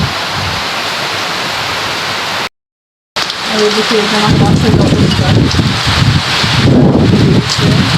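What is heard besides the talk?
storm with strong wind and heavy rain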